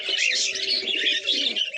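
A Madrasi highflyer pigeon, a male of the ghola line, coos and chirps continuously, close and fairly loud, against a bright busy background of other birds.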